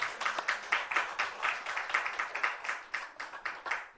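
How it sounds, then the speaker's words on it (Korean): A church congregation claps during a Sunday worship service, with quick, even claps in a steady rhythm of roughly two per second. The sound is clear and moderately near and keeps going throughout. "하나님께 영광의 박수를 올려드립니다"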